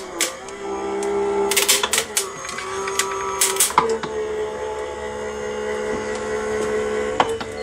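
A Sizzix Switch die-cutting machine hums steadily while cutting dies, sharp crackling clicks and snaps bursting in irregular clusters, close and fairly loud.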